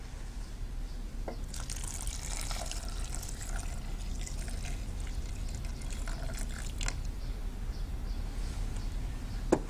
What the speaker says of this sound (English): and just enough water to cover them